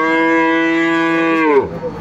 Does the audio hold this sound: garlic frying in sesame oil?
no